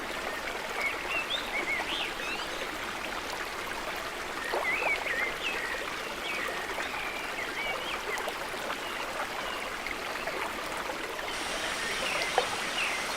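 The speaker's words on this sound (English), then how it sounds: "Thank you to the waterfall and the amazing waterfall." A waterfall at a hidden natural pool in Brazil pours with a steady broad rushing hiss, with birds calling faintly over the water.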